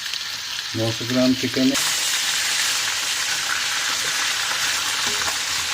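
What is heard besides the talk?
chicken sizzling as it is added to hot oil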